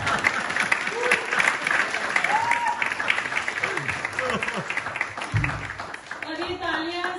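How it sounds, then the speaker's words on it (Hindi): Applause from a group of people at an informal gathering, steady mixed clapping that continues throughout while voices talk over it. "और ये तालियां सर स्कूल में सुनी थी कभी"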